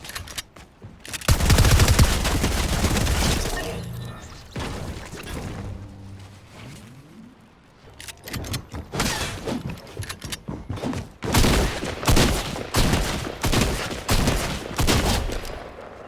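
Gunfire in a shooting video game, including a P90, with repeated rapid bursts and volleys that rise and fall over about sixteen seconds, loud and close.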